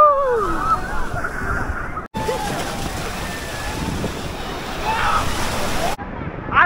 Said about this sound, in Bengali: ঢেউগুলো দেখো, ঢেউগুলো দেখো।